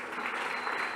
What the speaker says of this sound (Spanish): ¿Crees que Él merece un aplauso de gratitud?